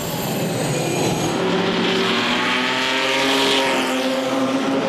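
Ligier GS3 race car at the Le Mans Classic, its engine note rising loudly through the revs as it pulls away, with a strong, continuous roar and climbing harmonics over a few seconds.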